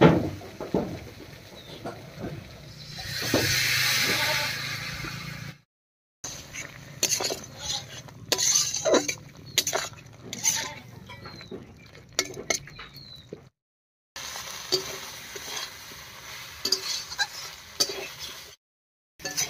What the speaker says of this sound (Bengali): এবারে মশলা বাটা জল দিয়ে কষিয়ে নেব।